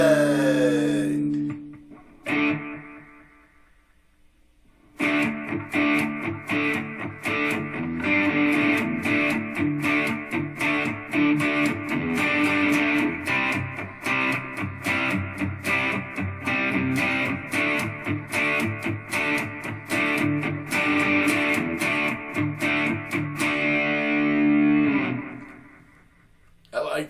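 An electric guitar runs through a budget digital delay pedal on a stadium-style reverb setting: strummed chords with long washy repeats ringing out for over twenty seconds, a short pause near the start and a fading tail at the end.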